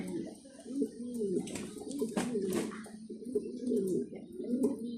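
Mundeyan pigeons in a farm cage coo in soft, repeated throaty phrases, a steady close-up murmur of overlapping calls with faint rustling throughout.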